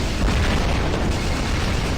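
War Robots video game combat: a dense, continuous wash of booming weapon fire and blasts, loud and heavy in the low end, with no clear pause or voice.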